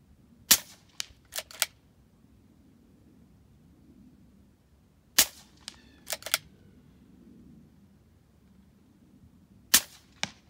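Red Wolf .25 caliber air rifle shots fired at a target 75 yards away, a few sharp isolated cracks each followed by faint distant ticks of impact, spaced out over quiet outdoor background.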